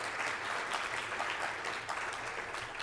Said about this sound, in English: if we could give them a big round of applause for their terrific work